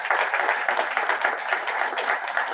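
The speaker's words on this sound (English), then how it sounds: "So let's give a round of applause to Sam." An audience at a Veteran's Day club meeting program gives a round of applause, a short steady patter of many hands clapping throughout, no voices over it.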